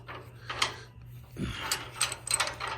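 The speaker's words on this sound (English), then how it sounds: "it screws, it rotates in a fashion that tightens against the log with friction" Screw clamp on a log-holding jig being turned and tightened against a log, giving a few scattered ratcheting, creaking mechanical clicks and rubbing bursts close by, with a low steady hum beneath.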